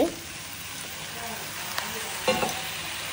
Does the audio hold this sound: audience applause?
no